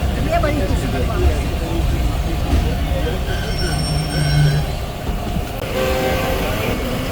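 A railcar train pulls out of Gujranwala railway station after a two-minute stop, its steady rumble of wheels and carriages running loud and continuous throughout, with a brief squeal and a faint horn-like tone midway and a voice talking over it.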